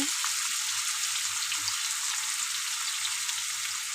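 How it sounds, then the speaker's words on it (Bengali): Turmeric powder and spices frying in a pan, a steady soft sizzle that stays even and continuous throughout with no talk. "এক চামচ হলুদ গুঁড়ো দেবো ভালো করে একটু ভেজে নেব"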